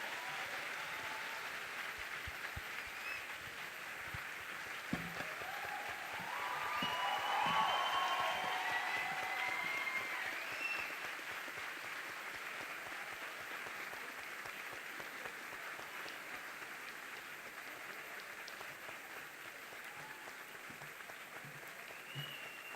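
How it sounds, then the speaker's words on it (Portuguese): An audience at a talk with architect Paulo Mendes da Rocha claps steadily for over twenty seconds, a dense wash of applause that swells briefly early on before settling at an even level. "vamos aqui, uma salva de palmas para o nosso arquiteto Vitória."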